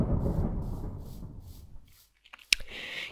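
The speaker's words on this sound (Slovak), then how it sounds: "Ja nechápem, prečo na mňa šľahajú blesky" A lightning strike in the Minecraft video game: a loud, deep rumbling crash fades out over about two seconds, then a sharp click and a faint high hiss follow.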